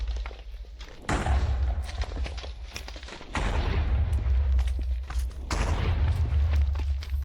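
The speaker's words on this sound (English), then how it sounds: "With the fifth spell, it fires an artillery barrage that explodes enemies around it." An explosive artillery barrage spell in Minecraft lands in heavy booming bursts. Three loud surges of deep thumps and blasts follow one another, with sharper cracks scattered through the rumble.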